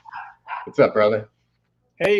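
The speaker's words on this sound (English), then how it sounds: "Sorry for the dog bark." A dog gives one short, close bark right after a man's brief spoken greeting.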